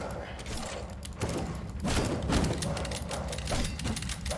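Gunfire in the video game Death Trash, dense overlapping shots that thud and rattle for several seconds as a continuous fusillade, with a voice faintly present.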